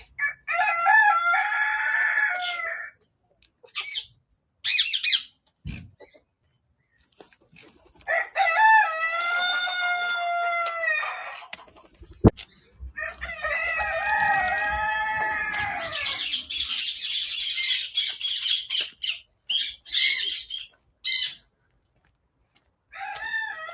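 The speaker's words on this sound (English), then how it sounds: "these are the roosters amongst the chickens making that noise." Several roosters crow among chickens at a large bird sanctuary, loud repeated cock-a-doodle-doo calls in separate bursts with short clucks and quiet gaps between them.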